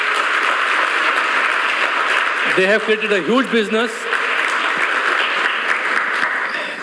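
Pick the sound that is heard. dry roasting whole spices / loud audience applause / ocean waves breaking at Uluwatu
loud audience applause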